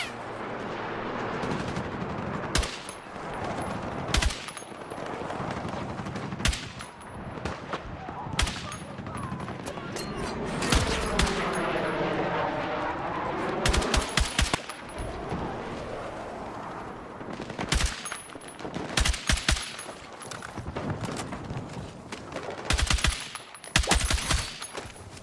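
Gunfire from a played video crackles in dense bursts and scattered single shots with booming impacts, fairly loud, over a rumbling background, continuing through about 25 seconds.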